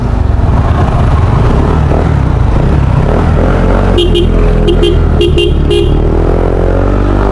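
A group of seven low-displacement motorcycles rides together on a road, engines droning loud and steady at close range, with several short horn toots sounding near the end and a faint voice in the background.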